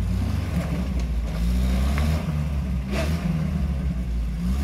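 A stock UAZ slides sideways along a rough tank road, its engine droning and revving steadily throughout, loud and close, with no talk.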